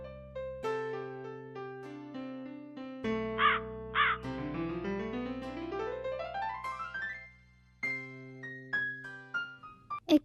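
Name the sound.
crow cawing in a cartoon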